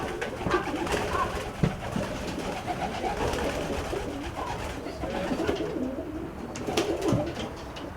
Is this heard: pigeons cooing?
yes